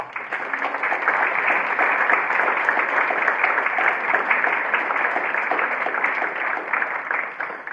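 Audience applause at the opening of a library, a steady, even patter of many hands clapping at moderate volume from start to finish, with no voices standing out.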